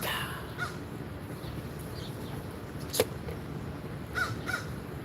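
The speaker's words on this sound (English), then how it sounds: "I hear you, Mr. Crow." A crow caws outdoors, several hoarse calls at moderate distance over a low, steady background hum, with one sharper call standing out and a couple more following soon after.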